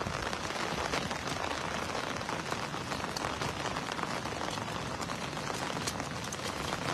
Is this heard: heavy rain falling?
yes